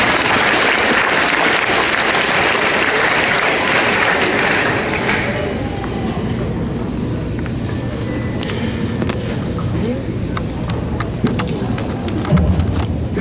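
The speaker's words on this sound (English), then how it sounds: "Give them a round of applause." A middle school graduation audience applauds, sustained clapping from many hands filling the hall, then thinning to scattered claps and room noise as a voice begins.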